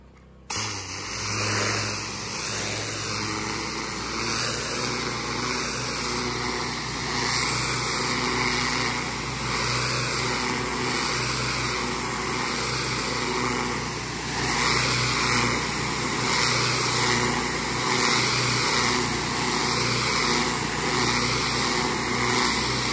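A pressure washer rinses a pool deck, giving a loud, steady engine-driven drone with a constant spray hiss that runs for the whole stretch, rising slightly at times, with no talking.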